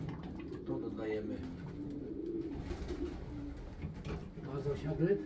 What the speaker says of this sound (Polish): Bo jest cztery gołąbki dorosłe